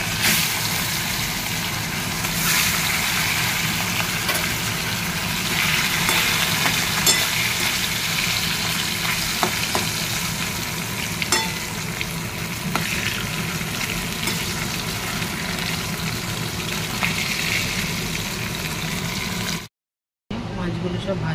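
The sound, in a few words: surmai fish frying in oil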